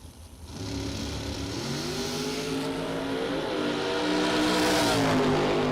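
A drag race car makes its run, its engine roaring loud and close and climbing steadily in pitch as it accelerates, heard alone without any talk.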